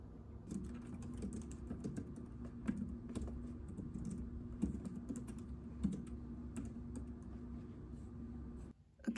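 Steady, continuous typing on a new Logitech computer keyboard, close and fairly quiet, with quick clustered keystrokes and no talking, stopping just before the end.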